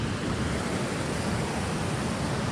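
Small waterfall and stream beneath an old covered bridge in Georgia, a steady broadband rush of falling and flowing water, continuous and close with no voices.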